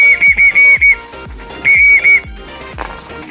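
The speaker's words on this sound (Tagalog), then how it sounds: "pumipito nga na tayo para alam nila na pag narinig nila yung pito, magpapakain tayo" Sharp, shrill whistle blasts used to call pigeons for feeding: a quick run of five short toots, a pause, then two more, loud and close with faint thumps behind.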